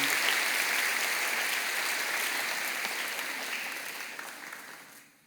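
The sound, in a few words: congregation applauding to welcome a new pastor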